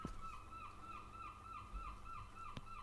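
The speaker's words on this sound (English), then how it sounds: "We've even got seagulls sounding like we're at the beach." Seagulls call repeatedly in a steady, rhythmic series of wailing cries, moderately distant against a faint background hiss, with one brief sharp knock near the end.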